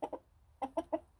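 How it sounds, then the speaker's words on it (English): A Rhode Island Red rooster gives short, close clucking calls outdoors in a backyard, two quick notes followed by a pause and then three more, fairly faint and alone. "Rhode Island red rooster."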